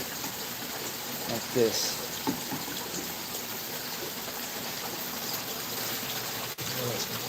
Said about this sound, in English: Stand it up right underneath this waterfall here. Let this waterfall crash down on it.